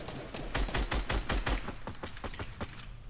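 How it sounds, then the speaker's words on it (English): Video game gunfire: a rapid string of evenly spaced automatic shots, loud and punchy at first, then thinning into sparser, slightly fainter reports toward the end. "I'm being shot at from another location"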